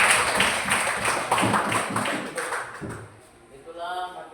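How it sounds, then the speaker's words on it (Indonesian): Children in a classroom clapping their hands after a Quran recitation, a run of scattered, moderate claps that fades out, with a teacher's voice speaking over it. "Tepuk tangan, Nak."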